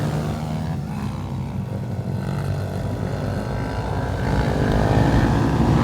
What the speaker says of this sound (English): Okay, the bikes are on the grid. The revs are up.